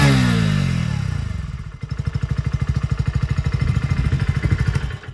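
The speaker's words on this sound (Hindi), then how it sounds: "अब साइलेंसर साउंड सुनते हैं।" Close-up 2023 Hero Passion+ motorcycle exhaust sound: a brief revving swell settles into a rapid, throbbing putter from the chrome silencer, steady and loud.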